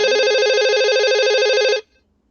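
A phone-ringing sound effect from a Python quiz game lifeline plays as a loud, steady electronic warble with a fast, even trill, then cuts off abruptly near the end into silence.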